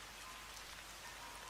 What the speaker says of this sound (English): listening to the rain outside